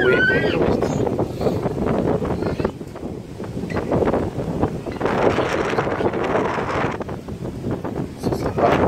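Steady wind rushes and buffets the microphone at a coastal village, loud and continuous throughout, with a voice speaking under it.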